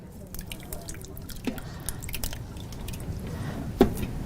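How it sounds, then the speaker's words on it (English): Sauce is poured over food inside a pressure cooker, giving wet drips and squishy splatters at moderate loudness over a steady low background, with a sharp clack near the end. "you take the sauce and you pour it over the top"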